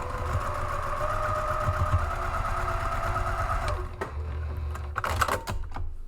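A sewing machine runs steadily across fabric along a three-inch stitch line for a few seconds, then stops, leaving a few clicks and handling taps.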